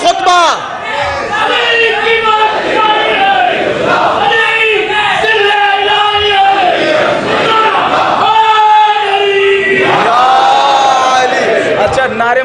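A large crowd at a Muharram majlis in Richmond Town, Bangalore chants religious slogans in loud, rhythmic call-and-response bursts, many voices rising together in repeated waves that fill the space.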